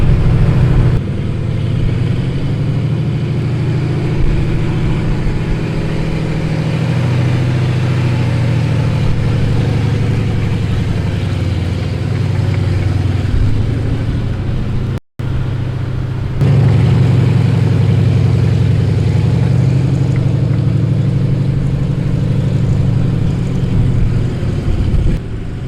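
A tank engine that has not run for a long time starts and settles into a steady, loud, deep rumbling run, briefly cutting out about midway before picking up again with the same heavy drone.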